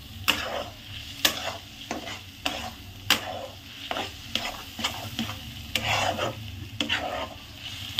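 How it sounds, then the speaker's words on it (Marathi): Egg bhurji frying on full gas in a pan, a soft sizzle under regular scraping strokes of a spatula stirring the eggs, close and fairly quiet. "गॅस फुल करायचा अंडा भाजताना."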